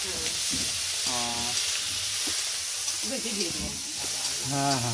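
Prawns frying in a pan give a steady broadband sizzle throughout, with people talking briefly over it.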